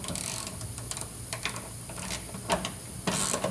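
A nutsert is wound into a TeraFlex rock slider mount with a 3/16 Allen wrench while a 9/16 end wrench holds the other side, producing a close run of light metallic ticks and ratchet-like clicks.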